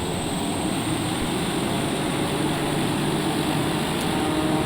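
A TBM 930 turboprop aircraft engine runs at full power on the takeoff roll, giving a loud, steady, unbroken roar that holds constant throughout with no talking.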